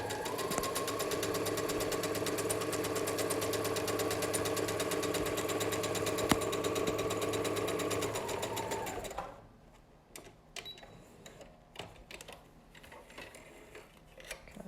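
Sewing machine running steadily across a face mask seam, a fast even mechanical hum for about nine seconds that slows and stops, followed by quiet handling clicks and rustles.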